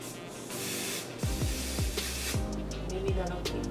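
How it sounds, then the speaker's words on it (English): Hairspray hisses in several short, close bursts onto a honey blonde closure wig, with a longer spray first and then quicker puffs, over a steady background and no talk. "Spray a little bit of hairspray."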